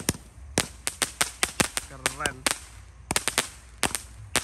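A rapid series of sharp bangs from a mini cake firecracker battery, loud and close, some in quick clusters, with a brief voice remark in between.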